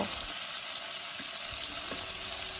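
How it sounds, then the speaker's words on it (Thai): Nam ngiao chili paste being stir-fried in a pan, a steady close sizzle and hiss with soft scraping stirs throughout, with no talk. "พัดน้ำพริกนะเจ้า น้ำพริกน้ำเงี้ยวนี่นะพัดให้หอมเลยเจ้า"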